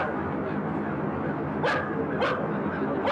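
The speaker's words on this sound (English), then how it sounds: "Edie Falco's dog kept running into the scene," A dog on a film set, the funeral scene shoot for The Sopranos, gives two short barks over a steady background of crowd murmur and ambient noise.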